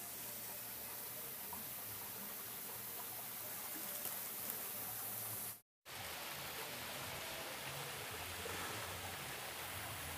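Water flows steadily down a natural-style waterfall in a landscaped farm café garden, a constant broadband rush that keeps going across the clip apart from one very short dropout.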